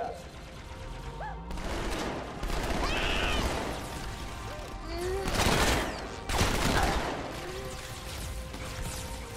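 Rapid bursts of gunfire crackle through a Halo 2: Anniversary firefight, with repeated volleys, sharp impacts and sustained shooting over a dense, busy game soundscape.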